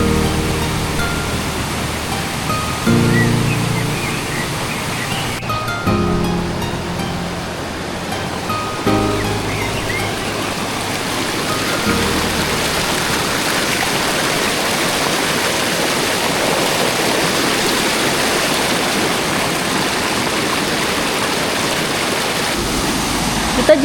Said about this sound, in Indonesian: Curug Halimun ini tidak terlalu tinggi ya, mungkin sekitar 10 meter saja tingginya